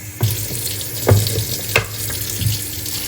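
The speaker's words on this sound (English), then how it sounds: "when you want to drain the water, you just empty it" Water draining and splashing from a removable sink basin as it is emptied, with a steady rush of water broken by a few louder sloshes and knocks, close and without talk.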